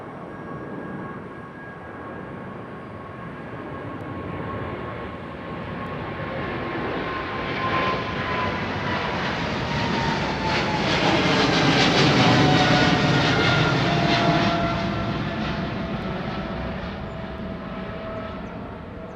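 A passenger aircraft arriving on runway 09R at London Heathrow, a steady rising-and-falling roar of engines that swells to a loud peak near mid-passage and then slowly fades, with no voices.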